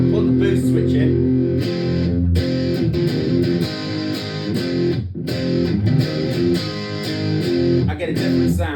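Electric guitar driven through a Xotic AC Plus overdrive pedal with its boost switch engaged, producing loud, dense distorted chords and riffs with brief pauses, played steadily and up close without any voice.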